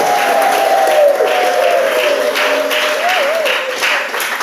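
A church congregation at an evening French-language service breaks into steady, sustained applause, a dense wash of many hands clapping throughout, with a faint voice drifting over it.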